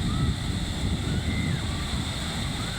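Large sea waves wash and churn around a small fishing boat out at open sea, a continuous rough surf roar mixed with steady wind noise on the microphone, with no distinct splashes standing out.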